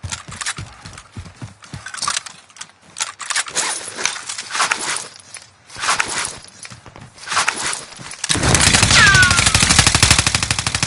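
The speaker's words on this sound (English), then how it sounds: "Under heavy fire here!" Heavy gunfire in Warzone, with rapid automatic bursts and single cracks coming in clusters before a sustained, loud barrage of machine-gun fire takes over at the end.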